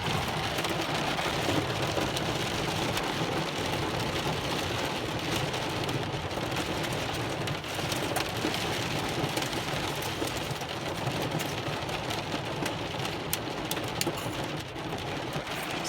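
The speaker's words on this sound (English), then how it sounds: "It's still hailing, I think." Heavy rain pours down steadily during a summer thunderstorm with hail, a dense, constant hiss close by with scattered sharper pattering impacts throughout.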